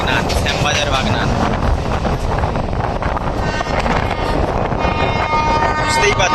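Azad Hind Express train pulling into Bagnan station on the South Eastern Railway, heard from a local train: a loud, steady rumble and clatter with wind noise and faint voices over it.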